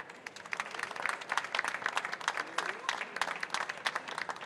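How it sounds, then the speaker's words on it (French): A seated audience at an artisan butchers' awards ceremony claps in a moderate, uneven patter of applause, individual hand claps audible, carrying on steadily for several seconds. "je compte sur vous bien sûr pour tous les applaudissements endiablés"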